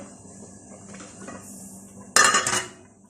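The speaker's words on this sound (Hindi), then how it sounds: "जौ और गंदम इन दोनों को हम एक बड़े देगचे में ट्रांसफर कर देते हैं" Boiled barley and wheat shifted into a large cooking pot, a faint scraping and rustle followed by a sharp, loud metallic clatter of pots and utensils lasting about half a second, then fading.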